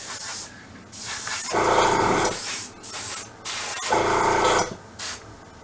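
An airbrush sprays Tamiya XF20 paint onto a model M551 Sheridan tank turret, loud close hissing bursts that start and stop repeatedly, with several longer sprays and a few short ones.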